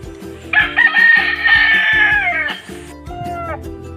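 A derby-winning fighting gamecock at a rural Philippine home gives a loud, close crow, a long drawn call that falls at the end, followed by a shorter second crow, over a steady background hum.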